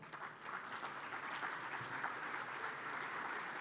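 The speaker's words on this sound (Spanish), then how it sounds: "Lo recibimos con este aplauso." Conference audience applauding to welcome a speaker at a business strategy event, a sustained wash of many hands clapping at moderate distance, even and unbroken throughout.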